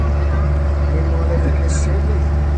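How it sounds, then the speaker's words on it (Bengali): A motorboat races across the lake toward the Neermahal water palace, its engine a loud, steady, close droning hum with strong low harmonics and indistinct voices faintly underneath. "আমাদের বোট বেশ জুড়েই চলছে, দুরন্ত গতিতে আমাদের বোট এগিয়ে চলেছে"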